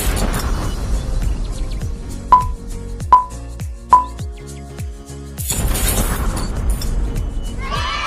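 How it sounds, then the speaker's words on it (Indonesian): A long chain of interlocked popsicle sticks, released at one end, bursts apart in a loud rush of rattling wooden clatter near the end, after a few sharp tonal beeps. "lepaskan bagian ujung dan terjadilah ledakan energi kinetik beruntun seperti ini"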